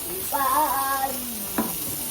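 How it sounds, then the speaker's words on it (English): Soft sizzle of a seasoned burger patty for a patty melt laid into a cast iron skillet, with a brief squeak and a single tap as it settles, fairly quiet throughout. "We're gonna lay our burger down"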